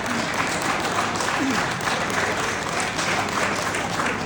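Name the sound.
audience clapping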